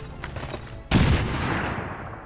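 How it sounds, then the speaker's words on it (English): A frag grenade explodes in the video game XCOM 2, a sudden loud blast that hits hard and then rolls off into a long decaying rumble, following a few faint game sounds. "Let's throw the frag."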